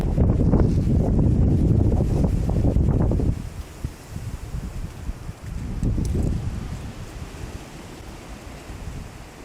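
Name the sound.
windstorm wind in treetops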